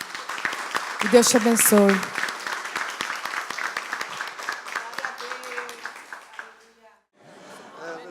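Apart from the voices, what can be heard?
church congregation applause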